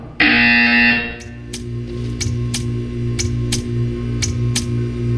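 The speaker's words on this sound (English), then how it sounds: "You will hear a buzzer." A loud, harsh electronic buzzer blares for about a second, then a series of sharp clicking beats follows over a steady low hum.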